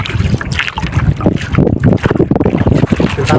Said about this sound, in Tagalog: sagwan ulit tayo mga lods. Sagwan lang na sagwan.